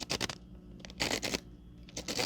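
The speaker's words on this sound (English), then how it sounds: "Something is grinding inside of this lens" A Canon 100-300mm f5.6 macro lens with a broken autofocus grinds inside in short, scratchy bursts, a dry rasping whir that starts and stops several times up close, with no talking.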